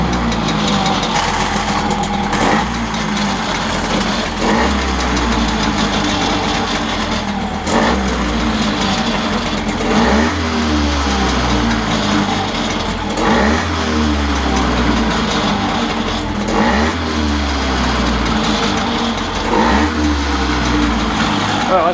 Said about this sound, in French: Au bout d'un an, 2 coups de kick elle a démarré.